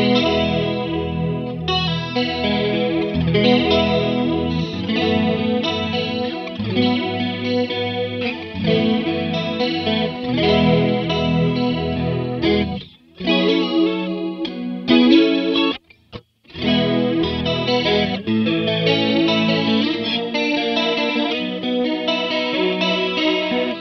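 Electric guitar played through a Free The Tone Tri Avatar TA-2H modulation pedal, with chords and melodic lines shimmering under chorus and wavering modulation, with slight grit. It plays continuously and up close, with two brief pauses near the end.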